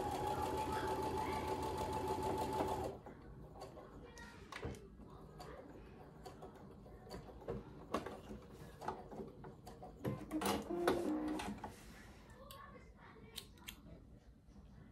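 A home sewing machine runs steadily for about three seconds, stitching a quarter-inch seam on white fabric for a Norfolk Fleur Noire quilt block. It then stops, leaving faint handling clicks and light thuds.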